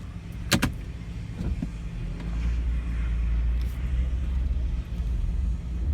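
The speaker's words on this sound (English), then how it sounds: "We're driving it out of the port right now." A 27-year-old JDM Nissan Laurel with 38,000 km pulls out of a port, its steady low engine rumble building after a couple of sharp clicks near the start, close and continuous with road noise.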